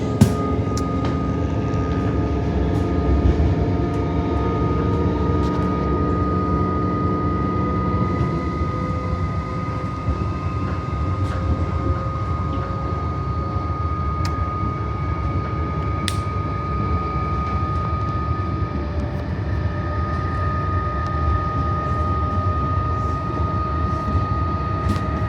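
Steady, loud rumble and hum of a moving Melbourne suburban train from inside a carriage, with constant rolling noise and a faint tonal whine throughout.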